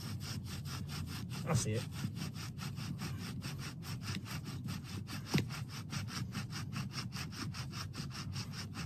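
A wooden spindle is spun into a fresh hole on a fire board by friction, making a close, fast, regular rasping of short back-and-forth strokes, with a brief spoken remark partway through.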